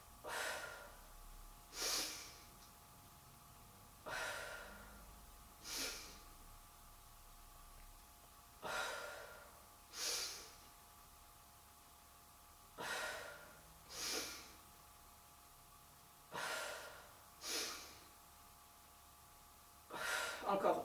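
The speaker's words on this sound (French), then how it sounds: "Inspire, on tire. Expire, on lâche." Slow guided breathing during a do-in back exercise: about eight long, close inhale and exhale cycles repeat at an even, unhurried pace over a quiet background.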